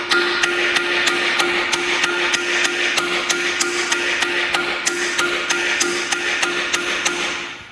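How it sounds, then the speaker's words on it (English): Steady metallic hammer strikes, about three per second, ring out loud and close in a long even series with no talking, as a harmonic balancer is hammered onto a 383 Chevy stroker engine. "we've all beat our balancers on with a hammer before."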